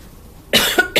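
A sudden harsh cough bursts out close by, followed quickly by a couple of shorter coughs.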